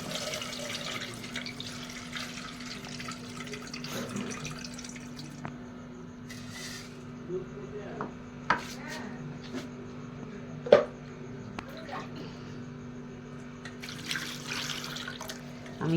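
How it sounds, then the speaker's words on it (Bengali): Tap water runs steadily while rice is washed for jeera rice, with a soft continuous splashing stream and occasional clinks and drips from the sink. No one speaks during it. "অটোমেটিক চাল ধোয়া শুরু করে দিয়েছি।"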